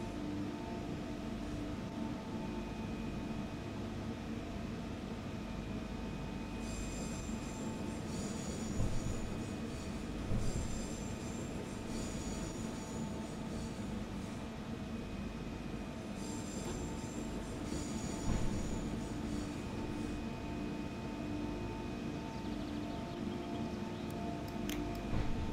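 An ELF electric passenger train in the SimRail simulator runs steadily, giving a continuous loud rolling rumble with a constant electric whine and occasional high squeals from the wheels, with no talking.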